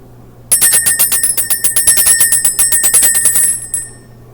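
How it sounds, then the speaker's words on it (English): A small bell rings in a rapid, bright trill of repeated strikes during an energy-clearing ritual, loud and close, lasting about three seconds before fading out. "Let's ring the bell, clear out this energy"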